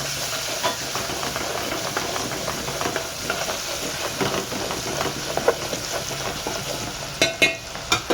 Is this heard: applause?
no